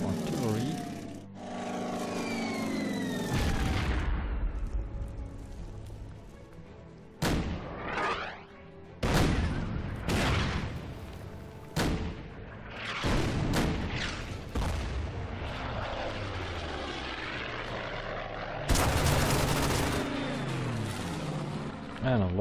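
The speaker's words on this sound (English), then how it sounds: "Yeah, the Russians have powerful artillery." Artillery fire in the wargame Order of Battle, Donbass scenario: a long run of sharp, loud explosive booms and blasts, some clustered and some spaced out, mixed with engine noise and speech over the whole stretch.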